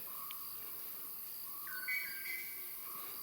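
A racket-tailed drongo gives faint, clear bell-like whistled notes in a forest near Munnar, India, against a steady insect hum.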